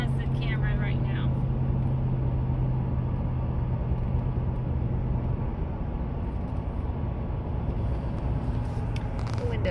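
Steady low engine rumble and road noise from inside a moving car on a cold winter drive, continuous and close, with a brief faint whistle early on and some light rattles near the end.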